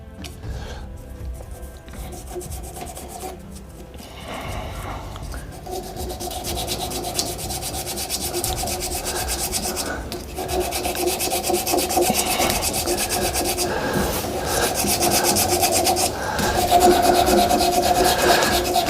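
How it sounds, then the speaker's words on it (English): Continuous abrasive rubbing as sandpaper is held by hand against a spinning resin shaving brush handle on a wood lathe, a steady close hiss with a low motor hum beneath, growing slightly louder toward the end, with no talking. "I'm only just giving this a little bit of a hand sand with this grit"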